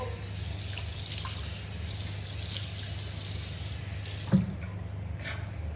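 Water runs steadily from a tap into a sink during face washing, a constant close flow with a couple of soft splashes and knocks, no talking.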